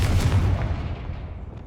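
A Confringo fire spell blast in the video game Hogwarts Legacy, heard as a single loud, close burst that rolls off into a fading rumble.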